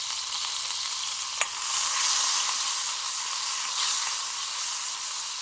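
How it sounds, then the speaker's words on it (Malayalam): Bay leaf and cumin seeds sizzle steadily in hot oil for a prawn masala, a close, even frying hiss with a sharp pop early on and gentle stirring swells. "ഇനി ആ സെയിം ഓയിലിലേക്ക് തന്നെ ഒരു ചെറിയ ബേ ലീഫ് 2 പീസായിട്ട് കട്ട് ചെയ്ത് ആഡ് ചെയ്ത് കൊടുക്കുക."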